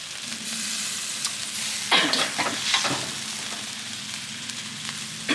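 Holy basil stir-fried in a hot pan for a Thai basil dish, a steady sizzle broken by a few sharp scraping stirs of the spatula in the middle.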